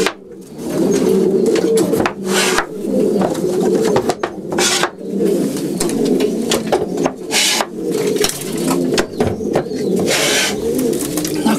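Racing pigeons coo steadily inside a loft, a close, continuous chorus of throaty rolling calls with a few soft wooden knocks and flutters.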